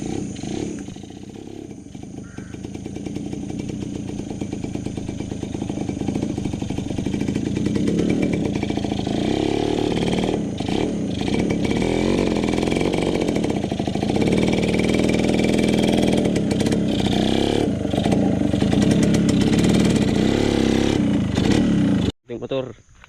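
A motorcycle engine drones steadily and loudly for most of the stretch, with outdoor garden background noise, then cuts off abruptly near the end.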